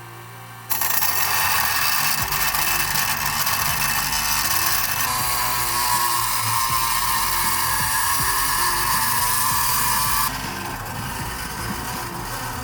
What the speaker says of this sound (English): I'm going to take this saw right here and I'm going to try to shave off just a little bit of the bolt